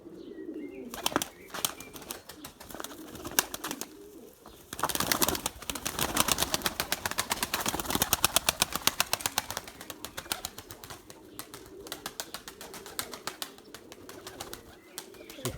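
Limoni pigeons flying overhead, a steady flurry of wing flaps and fluttering at close to middle distance, rising and falling in bursts for the whole stretch.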